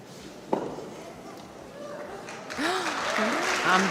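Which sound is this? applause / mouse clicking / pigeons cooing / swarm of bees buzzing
applause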